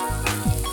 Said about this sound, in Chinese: 炒至变色后，放入秋葵快炒